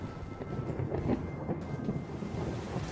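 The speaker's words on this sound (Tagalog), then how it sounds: "O ayan, kumukulog na nga ng malakas." Heavy thunder rumbles low and continuous through a rainstorm, a deep rolling roar that swells and ebbs without a clear break and with no voices over it.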